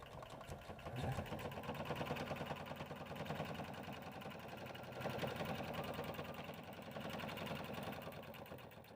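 A sewing machine stitches the front panel of a bag, a close, rapid rhythmic mechanical chatter that rises and falls as it runs steadily without talk.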